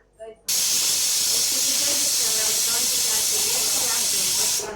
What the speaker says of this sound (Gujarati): 5 થી 6 સીટી થઈ ગઈ છે.